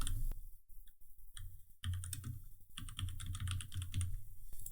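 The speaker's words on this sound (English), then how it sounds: "And I'm going to type in flip websites." Quick, close key presses clatter on a computer keyboard in irregular bursts, with brief pauses between runs of typing.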